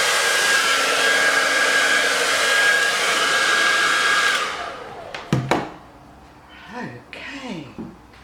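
A hair dryer blowing across freshly poured acrylic paint in a Dutch pour, a loud steady whoosh for about four seconds that then cuts off, followed by brief clicks and someone speaking.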